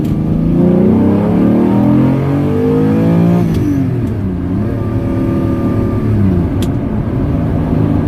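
A 1998 Lamborghini Diablo accelerates hard through second gear, its engine note climbing loudly over several seconds, dipping briefly at a shift and then pulling again, heard up close with no talk.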